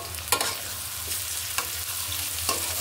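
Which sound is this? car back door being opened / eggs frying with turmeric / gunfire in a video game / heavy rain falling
eggs frying with turmeric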